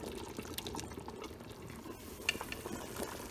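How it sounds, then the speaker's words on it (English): Red palm oil cooks in a pot of Nigerian egusi soup with a steady, low sizzling and bubbling, broken by occasional soft stirring clinks and splashes. "You add your red oil, allow it to cook for maybe a minute"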